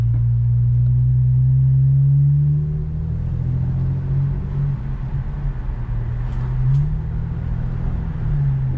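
Low, steady exhaust drone from an Infiniti Q50 with Megan Racing lower downpipes and a muffler delete, idling and cruising at low RPM in sport mode, fairly subdued and even throughout.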